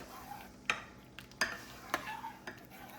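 A spoon stirring black pepper into butter beans in a pot, giving soft wet scrapes broken by a few sharp clinks against the pot's side, fairly quiet and close, with no voices.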